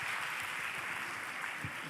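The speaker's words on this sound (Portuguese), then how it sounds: "Você não vai aplaudir de novo não, é?" Audience clapping at an academic-week lecture on the Bible in history, a steady, dense wash of applause held at an even level throughout.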